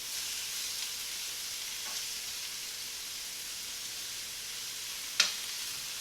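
Shrimp sizzle steadily in a hot pan, spread out in one layer, a continuous even frying hiss with a soft clink near the end.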